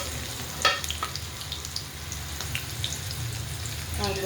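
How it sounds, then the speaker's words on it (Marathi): Onion dropped into hot oil with cumin and mustard seeds, setting off a steady sizzle with a sharp crackle near the start and faint stirring scrapes, close by with no talking. "आता आपण लगेच कांदा टाकून घेऊ"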